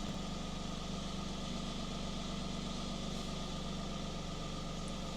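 A Toyota Aygo with a faulty MMT automated gearbox idles steadily at close range, its low, even engine drone running without pause.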